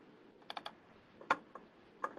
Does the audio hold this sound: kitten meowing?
no